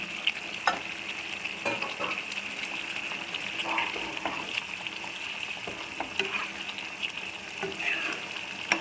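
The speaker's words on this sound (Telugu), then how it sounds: "ఇప్పుడు దీంట్లో మనం ఏపి ఉంచుకున్న పచ్చిమిర్చి దీంట్లోకి వేసేసుకోవాలి" Green chillies sizzling in oil and masala for Hyderabadi mirchi ka salan, a continuous close frying hiss with bubbling and intermittent stirring clinks against the pan.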